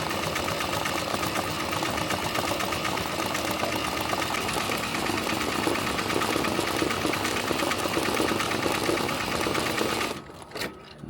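A Tajima TMBP2 embroidery machine stitches a 3D puff design on a hat, a fast, continuous mechanical chatter and rapid needle clatter that runs steadily and loudly before cutting off near the end.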